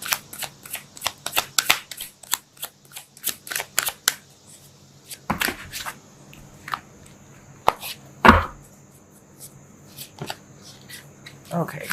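Tarot cards are shuffled in quick riffling bursts, close and crisp, with a few sharper taps and a pause in the middle, while a voice talks faintly at times.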